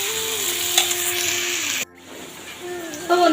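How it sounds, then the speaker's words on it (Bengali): Potatoes and jackfruit seeds fry in oil in a wok with a steady hiss. Faint tonal sounds run underneath, and the sizzle briefly drops before returning near the end. "তো বন্ধুরা আমার আলু আর কাঁঠালের আটিটা ভাজা হয়ে গেছে"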